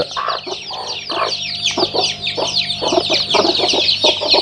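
A native country hen clucks repeatedly in short, close, busy bursts, with rooster-like calls from the flock mixed in on a village farm.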